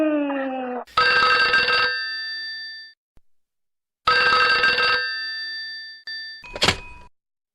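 An old-fashioned telephone bell rings loudly and close in two long bursts separated by a pause, with a short tone and a thunk before and after, in a domestic comedy scene.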